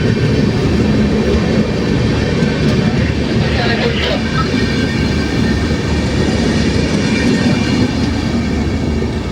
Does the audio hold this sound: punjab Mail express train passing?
yes